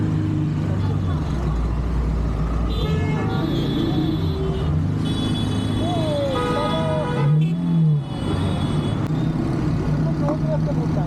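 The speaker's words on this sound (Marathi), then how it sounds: "आज खूप ट्रॅफिक करून ठेवले सगळे." Busy road traffic near a junction: a continuous rumble of passing car and truck engines with brief horn-like tones rising above it, close and steady, with people talking throughout.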